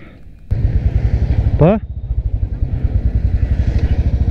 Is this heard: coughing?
no